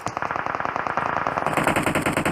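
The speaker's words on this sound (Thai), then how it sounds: "ตอนนี้เสียงปืนเนี่ยมันลั่นทุ่งในเมืองลอสเอเนสไปหมดแล้ว" Sustained automatic gunfire from a PUBG Mobile esports match, rapid loud bursts of rifle shots rattling continuously and growing denser toward the end, with no talking.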